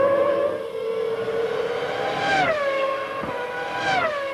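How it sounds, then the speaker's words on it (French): A 1998 McLaren Mercedes Formula 1 car at race speed: a high, sustained engine whine that climbs and drops steeply as it passes, shifting pitch twice, loud and near, with no speech. "la McLaren Mercedes de Coulthard en profite pour forcer l'allure"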